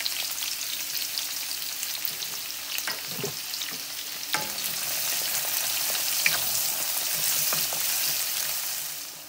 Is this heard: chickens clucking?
no